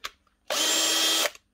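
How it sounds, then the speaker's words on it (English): A Makita drill with a screwed-on chuck runs at its lowest speed in drill mode, a steady whirring burst of under a second starting and stopping abruptly, close and loud, with no talk. "Changing a chuck on a Makita drill, or any drill that has a screwed on chuck with a bolt in the middle of it"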